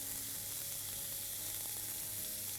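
Chicken pieces sizzling as they fry in a pan, a steady close hiss with faint crackles running without a break.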